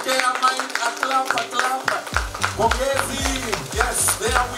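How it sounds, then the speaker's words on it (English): Audience at a civil society organisations' annual report launch breaking into applause, a burst of clapping mixed with speech and a sustained musical tone, fairly close and lively. "Okay, a clap."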